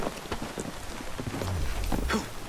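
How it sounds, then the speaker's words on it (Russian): Steady rain patters on the streets of Victorian London in Assassin's Creed Syndicate, with a low rumble and hoof-like clatter beneath it. The wash of rain is continuous and moderately loud, with no talking. "Обожаю дождь в Лондоне."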